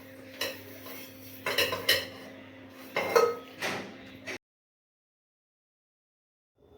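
Dishes and utensils are scrubbed and washed by hand in a home kitchen, with scattered clinks and clatters of metal and crockery over running water. The sound stops abruptly into silence partway through.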